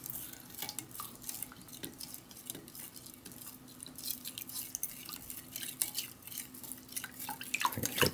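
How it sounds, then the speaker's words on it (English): A spoon stirs lemon drink mix from a Lithuanian combat ration into water, making faint, quick clinks and taps against the cup with soft liquid swishing throughout. "I'm going to do quite a bit of stirring."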